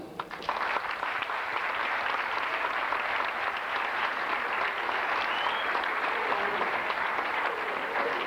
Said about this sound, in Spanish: Y a todos ellos me gustaría que por favor les brindásemos un aplauso.